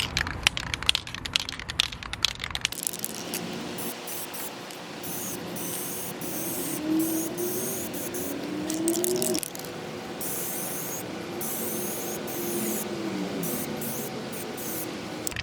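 A can of Dupli-Color Perfect Match clover green pearl spray paint sprays in long continuous hissing bursts, opening with a run of rattling shakes and short clicks, up close with no voices.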